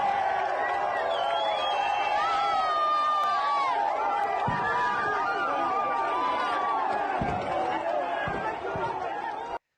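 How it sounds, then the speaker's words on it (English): A street crowd cheers on the army, many voices chattering, shouting and whistling together at mid distance, with occasional louder thumps, lasting nearly ten seconds. "they're cheering on the army"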